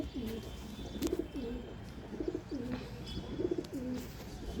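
A pet pigeon coos close by in repeated soft, throaty rolling phrases, several in a row at a steady rhythm, with faint background noise.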